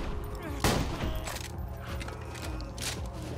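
A single sharp, loud shotgun blast from Borderlands 2 cracks out near the start, its echo trailing under ongoing game noise and a man's brief speech.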